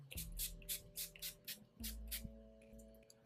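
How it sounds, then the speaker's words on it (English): NYX Dewy Finish setting spray is pumped onto a face in about eight quick, evenly spaced spritzes, each a short soft hiss, quiet and close with no talking. "I'm gonna go in with this NYX Dewy Finish setting spray"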